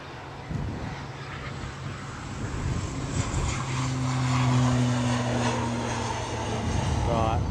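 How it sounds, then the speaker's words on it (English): An ATR turboprop airliner rolls at Edinburgh airport, heard at a distance as a steady, growing drone with a propeller hum that slowly gets louder across the clip. "Right, we have an ATR rolling."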